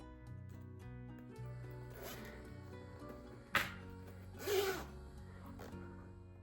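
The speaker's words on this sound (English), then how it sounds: "Take your zipper pull and insert it onto your zipper." A bag zipper's pull gets worked onto the zipper tape in short, quiet rasps, with a sharp click and a brief zipping burst near the end, against a faint background of soft music.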